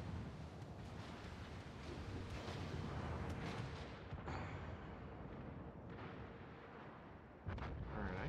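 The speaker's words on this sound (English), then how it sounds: "you can hear the shell burst, or the whiz of the shells as they go by" Dense, continuous rumble of naval shell bursts and whizzing shells in the World of Warships video game, a steady loud roar with sharper crashes near the end and no speech.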